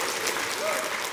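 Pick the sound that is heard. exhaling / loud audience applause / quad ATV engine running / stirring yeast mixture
loud audience applause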